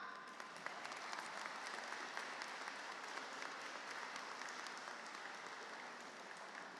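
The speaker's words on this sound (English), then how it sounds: "Y'all can clap." A commencement crowd at a school of global studies breaks into dense, sustained clapping that holds at an even level from start to finish, a continuous roar of many hands with no voices standing out.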